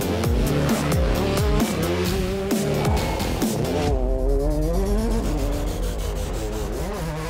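R5 rally cars racing on tarmac at the Ulster Rally near Derry, loud engines revving and shifting through gears as they pass close, with tyre and road noise throughout.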